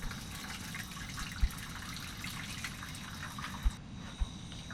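Water drained off homemade cheese in Bhutan pours in a steady, close gushing trickle, with a few soft knocks breaking through.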